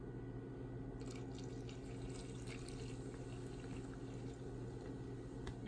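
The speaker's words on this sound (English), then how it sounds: "Now, you will need to pour the water into the bowl." Warm water is poured into a bowl while making fry bread dough, a soft continuous trickle and splash over a steady low hum, faint and close, with no talking.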